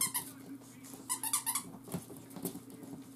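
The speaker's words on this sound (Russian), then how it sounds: "Хотя эта пищалочка сразу не подвластна щенкам" Rapid high-pitched squeaks from a squeaky rubber puppy toy being squeezed in quick clusters, with a low steady hum in the background.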